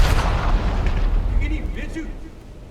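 Naval gun salvos fire in a naval warfare game, a heavy booming blast that rolls and fades over a couple of seconds, with a voice speaking faintly underneath.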